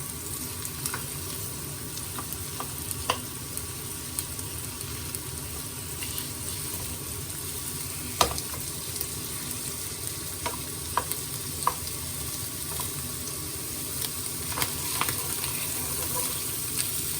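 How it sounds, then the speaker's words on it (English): Bacon bits sizzle steadily in a hot frying pan while being broken up and stirred, with scattered clicks of a utensil against the pan throughout; no talking. "So I'm just going to break this up and fry these bacon bits down."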